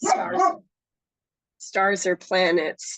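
A dog barks in a room, a quick pair of sharp barks, then after a pause a run of several more barks mixed with a person talking nearby.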